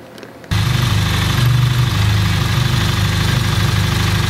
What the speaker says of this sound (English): So the engine is just starting to warm up